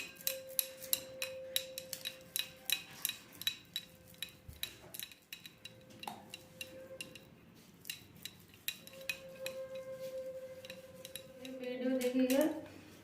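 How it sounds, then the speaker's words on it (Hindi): Boiled potato is grated by hand on a kitchen grater for egg lollipops, making a steady run of short, rhythmic scraping strokes over a thin background hum, growing busier and louder near the end. "अंडे का कद्दूकस कर लिए और आलू करेंगे।"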